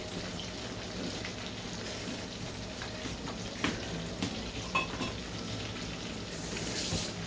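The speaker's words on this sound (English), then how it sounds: "Stir the rice with the beans, so the beans can mix well with the rice." Rice and beans stirred in a pot produce a steady, dense crackle and sizzle, with a few louder scrapes and taps near the middle. No voices are heard.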